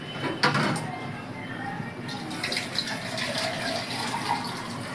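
Water is poured into a pot of soaked rice for biryani, a soft gushing splash that surges at the start and then settles into a quieter trickle, heard close but low in level.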